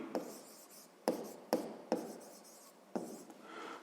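Pen or pencil writing out a sixth-grade math solution on paper, soft scratchy strokes in several short bursts with brief taps between, close and quiet, with no voices.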